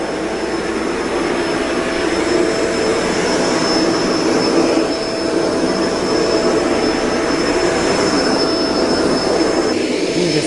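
A Kenmore Intuition bagged upright vacuum cleaner running, its airflow a loud, steady, jet-like whoosh with a thin high whine, close and continuous for the whole stretch, no voices.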